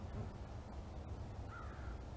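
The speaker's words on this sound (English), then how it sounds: "I only got crows crowing at me." Crows caw faintly in the distance over Forestport Reservoir, part of the Black River system, with a brief call rising above a steady low rumble of background noise.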